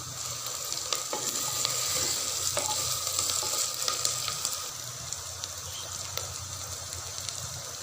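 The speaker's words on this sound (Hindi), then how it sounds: "अब हम इसमें शामिल कर देंगे अदरक, लहसुन, सब्ज़ मिर्च और धनिया का पेस्ट। इसको अच्छे से भून लेते हैं।" Onions with ginger, garlic, green chili and coriander paste fry steadily in a pan, a continuous close sizzle with occasional stirring scrapes and a faint watery undertone, no voices.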